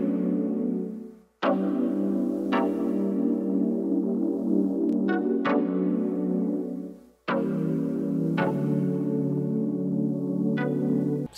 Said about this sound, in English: This is the other pad sound.